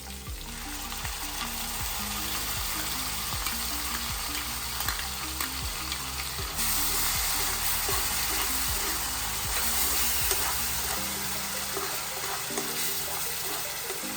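Onion and green chilli paste sizzles and fries steadily in hot oil in a pan, a loud continuous crackle with rhythmic stirring scrapes running through it, no voices.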